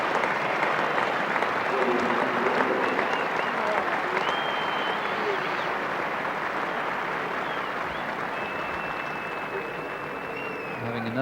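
A cricket crowd at Lord's applauds the West Indies captain during a one-day international against England, a continuous wash of clapping and murmuring from a large distant audience, with faint whistles over it.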